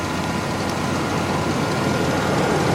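A 2004 Chevrolet Astro Van idles steadily after starting, with a smooth, even low engine hum and quiet exhaust through headers, broad and constant with no talking.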